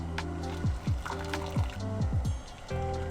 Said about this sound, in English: Rinse with cold water and squeeze out all the excess water.